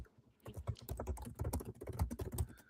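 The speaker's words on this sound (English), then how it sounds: "Well, I'm just typing in." Rapid typing on a computer keyboard, a quick run of close, quiet keystrokes clicking in an uneven rhythm for a few seconds, alone without speech.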